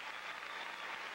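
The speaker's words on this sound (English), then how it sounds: "And the hands are clapping" A crowd at a 1988 international mixed pairs gymnastics event claps after a routine, a faint, steady wash of distant applause lasting about a second, with no voices on top.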